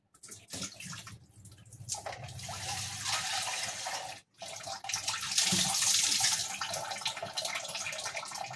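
Lentils are washed under a running tap, a steady near splash and rush of water that pauses once briefly and then resumes, with no talking.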